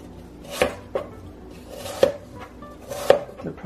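A knife slicing apples for an apple tart, making four or five distinct thuds on a cutting board at uneven intervals, close and fairly loud with no talking.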